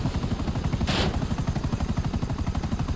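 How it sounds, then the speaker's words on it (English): Gunfire in the video game GTA Online: rapid continuous automatic bursts rattle loudly and evenly throughout, with one short hissing rush partway through. "Quick, get out of here, they're shooting us."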